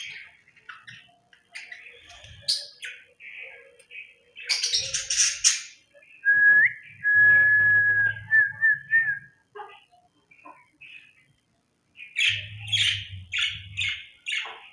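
Australian parrots kept indoors in a house, chirping and whistling in short bursts with one long clear whistled note in the middle and quieter pauses between calls, close and fairly loud.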